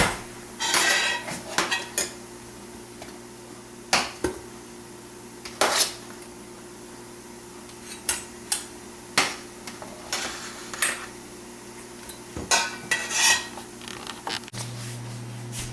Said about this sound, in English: so I'm just going to scoop that out